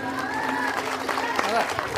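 An audience claps at a school golden jubilee ceremony, a dense patter of applause mixed with a speaking voice over a loudspeaker.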